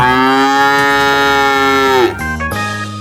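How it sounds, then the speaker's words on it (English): A cow gives one long, loud, steady moo lasting about two seconds, then a lower, shorter bellow trails off, with a single word spoken briefly over the end. "That's right, it's a cow. Cows make this sound."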